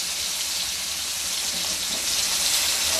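Pieces of rahu fish fry in hot oil on a medium flame, giving a steady, dense sizzle that stays close and even throughout with no talking.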